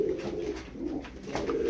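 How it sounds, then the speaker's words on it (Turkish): A pigeon, an Armenian chain-type sky-blue breed, coos steadily in a low, rounded rhythm, close and fairly loud, with a few soft fluttering bursts that could be wingbeats. "Kanat çalıştırıyor kuş."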